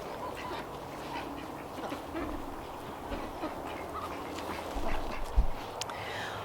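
Ducks and geese quacking and honking in a garden beside their poultry house, a steady outdoor flock chatter with a few louder calls standing out near the end.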